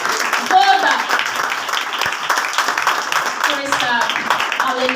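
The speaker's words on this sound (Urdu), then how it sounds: "زوردار تالیاں بجائیں یسوع کے جلال کے لیے، زوردار." A church congregation claps enthusiastically during an Urdu-language sermon, a dense wash of hands beneath the preacher's voice, which continues talking over the sound.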